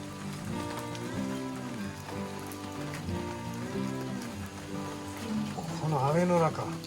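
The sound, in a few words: rain falling during a garden campfire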